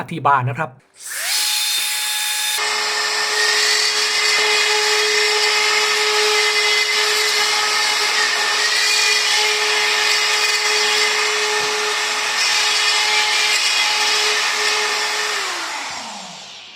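A DEWALT DCE555 cordless multi-cutter cuts through a T-bar ceiling panel with a loud, steady high-pitched whine that runs unbroken for about fifteen seconds, then spins down at the end.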